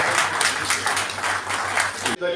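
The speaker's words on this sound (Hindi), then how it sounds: "आप सबसे ये गुजारिश है कि तालियां बजाकर स्वागत करते हैं।" Audience applause welcoming an author at a book launch event, a steady dense wash of clapping throughout, with a faint low hum underneath and an abrupt cutoff near the end.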